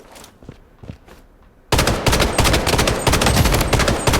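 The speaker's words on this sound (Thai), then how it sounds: "เหมือนมีเสียงสไนเปอร์นะครับ" Rapid automatic gunfire in the shooter video game Blood Strike, a loud continuous burst that starts abruptly after a quieter stretch of distant shots and footsteps, dense and close.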